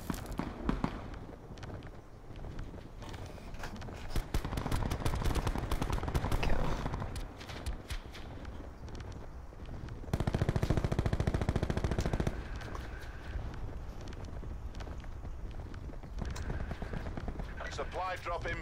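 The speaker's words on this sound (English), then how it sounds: "Prodigy getting shot up." Video game gunfire in rapid automatic bursts and scattered shots, dense and loud through most of the stretch, with a player talking over it.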